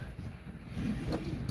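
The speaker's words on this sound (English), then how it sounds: "Oh, it's real windy today, guys." Strong outdoor wind buffets the microphone in low rumbling gusts, swelling louder partway through, with faint background sounds and no talk.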